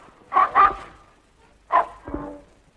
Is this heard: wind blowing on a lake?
no